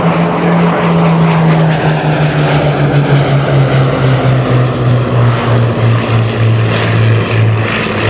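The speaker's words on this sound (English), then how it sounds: "this aircraft really does sound like it's going very, very, very fast" An RAF Hawker Hurricane's piston engine roars loudly and steadily at an airshow, its propeller drone sliding slowly down in pitch as the fighter passes close by.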